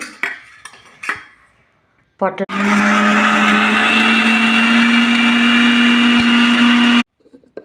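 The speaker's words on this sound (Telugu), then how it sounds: "పొట్లకాయ చట్నీ గ్రైండ్ చేసుకున్న తర్వాత చూడండి ఇలా కచ్చా పచ్చా గ్రైండ్ చేసుకోవాలి." A mixer grinder whirs steadily for about five seconds, loud and close, coarsely grinding snake gourd chutney with green chilli, tamarind, cumin and salt, after a few short clinks and taps before it starts.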